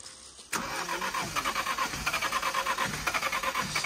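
A diesel 4x4 car engine cranks repeatedly in snowy mountain conditions, a steady rhythmic churning starter whir after an abrupt onset, close and loud, without catching.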